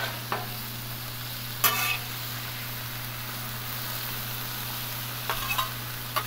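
Cheesesteak meat cooks on a griddle with a steady low sizzle, broken by a few brief scraping and stirring sounds of a spatula.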